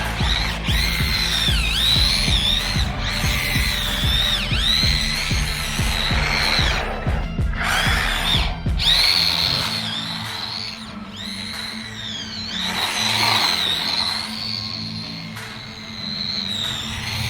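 A 1/18 scale Honda NSX RC drift car with gyro slides while its front wheels lock up, giving a loud high-pitched whining squeal over a buzzing electric motor that drops away partway through.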